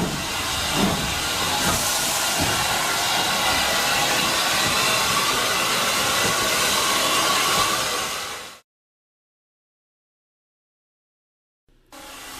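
Adams T3 steam locomotive departing on the Swanage heritage railway, with a loud continuous hiss of steam and rumbling chuffs close by, cutting off abruptly to silence before noise briefly returns.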